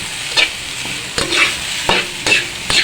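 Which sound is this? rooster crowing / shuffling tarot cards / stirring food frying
stirring food frying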